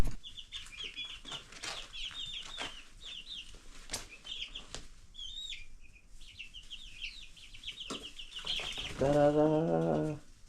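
Baby chicks in a brooder with a roost built from scrap wood, giving scattered high peeps and chirps throughout, with soft wing flutters and light knocks, then a louder burst of overlapping cheeping near the end.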